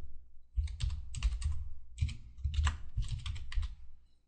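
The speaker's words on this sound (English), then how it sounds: "So I will type that name in this field." Computer keyboard typing in bursts of quick clustered keystrokes with brief pauses, close and fairly quiet, entering text into a field of an FTP client setup.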